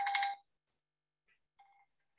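A telephone rings briefly at a talk on seagrass monitoring: a short, fairly loud burst of tones first, then near silence with a few faint, clipped electronic tones.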